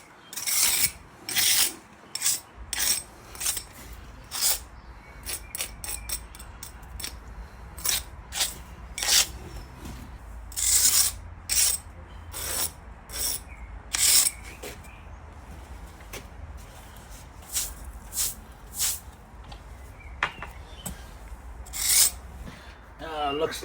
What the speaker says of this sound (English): Quick little brush off.